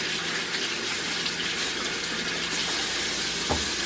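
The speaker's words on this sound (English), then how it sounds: "we're going to rinse them off in the sink here" Tap water runs steadily into a sink as potatoes are rinsed, a loud continuous gushing splash close by, with no talking.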